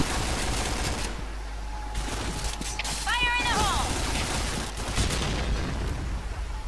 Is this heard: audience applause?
no